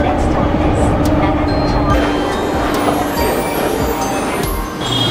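A train at a Tokyo station platform rumbles loudly and steadily nearby, a dense rolling roar filling the space, with faint talk beneath it.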